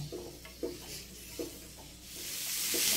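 Capsicum, onion and green chilli stirred in a frying pan with a spatula, a few distinct scraping strokes over a soft sizzle that swells louder in the final second.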